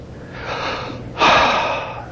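A deep breath drawn in and let out during an anxiety-calming exercise, a softer inhale followed by a louder, fuller breath close to the mic, with no talking.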